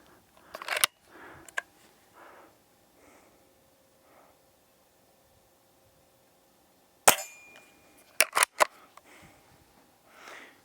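A Hatsan Model 25 Supercharger .177 air pistol fires at targets 10 meters away: sharp, close snaps spaced apart, with faint breathing and handling noises between and a quick cluster of cracks toward the end.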